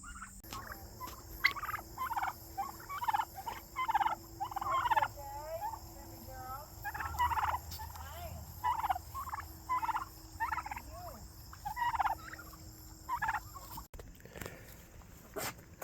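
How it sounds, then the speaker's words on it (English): Several turkeys gobble repeatedly in bursts, fairly close and moderately loud, against a quiet outdoor background. "Let's see how these turkeys are doing."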